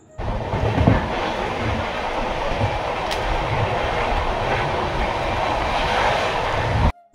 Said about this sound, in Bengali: তারপরে আমরা ট্রেনে উঠে পড়েছি